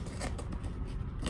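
Scissors snip through the overhanging liner material of a DIY wicking tub, several quick cuts in a rough rhythm, close and clear over a low background rumble.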